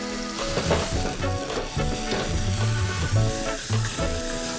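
Tomato paste sizzles and fries hard in a pan after a splash of Jamaican rum, a steady dense crackle with stirring scrapes over a low tonal hum, close and continuous with no talking.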